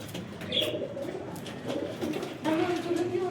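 Desi high-flying racing pigeons coo softly and repeatedly at close range while someone talks over them.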